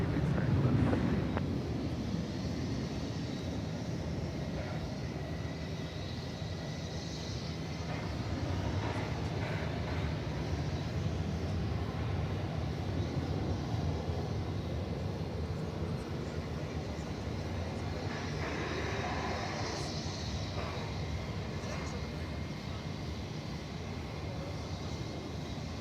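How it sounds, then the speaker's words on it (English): A UPS Boeing 757 airliner at DFW Airport gives a steady, broad jet engine roar that holds at an even level throughout, with wind noise and a slight swell near the start. "Another 757 coming in from Minneapolis, St. Paul, UPS flight 561"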